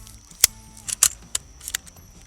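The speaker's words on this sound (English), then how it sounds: "attempt to lock the bolt back to the rear." A real rifle's bolt being worked and locked to the rear during malfunction clearance, heard as a few sharp metallic clicks and clacks spread over two seconds, close and crisp against a quiet background.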